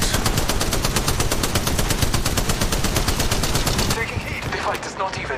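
Rapid, evenly spaced automatic gunfire in a video game hammers loud and close for about four seconds, then gives way to fainter combat noise.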